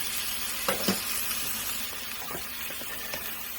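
Organic chicken from Trader Joe's fries quickly in a pan, a soft continuous sizzle broken by a few clinks and scrapes of a utensil against the pan, with no talking.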